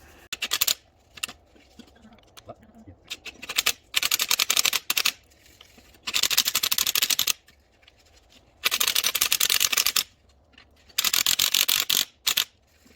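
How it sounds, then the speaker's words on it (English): Spring compressor clamps being wound onto a Mitsubishi Colt suspension strut, bursts of rapid ratcheting clicks repeated in several runs with short quiet pauses between them. "I'll wind the spring clamps on a little bit at a time now."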